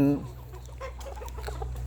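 Burmese chickens in a garden give a short cluck at the start, followed by soft scattered clucks and low background noise.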